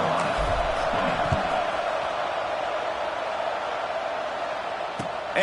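Stadium crowd in College Football 26 producing a dense, steady wash of cheering and roar that stays constant throughout, with a few faint thumps underneath.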